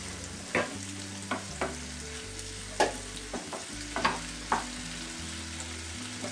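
Onions and tomatoes cooking in a covered pan for rava uttapam, a soft steady sizzle with occasional faint pops and light clinks, quiet and close, no talking.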